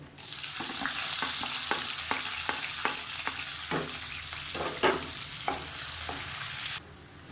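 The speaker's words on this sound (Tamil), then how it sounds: "இப்போ வெங்காயம் இந்த அளவுக்கு நல்லா பொன்னிறமாக வறுத்துக்கோங்க" Sliced large onions fry in oil until golden, a dense close sizzle punctuated by a string of spatula scrapes and taps, then the hiss cuts off abruptly just before the end; no voices.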